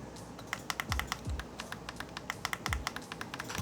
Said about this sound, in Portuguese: Sempre que você apertar ele vai dar um clique e você vai ter certeza que você apertou o botão